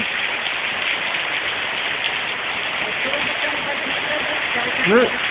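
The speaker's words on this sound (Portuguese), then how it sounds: "Tá um chuvão que não dá nem pra mim entrar dentro de casa" Heavy rain pours down in a dense, constant hiss, with a voice briefly rising above it near the end.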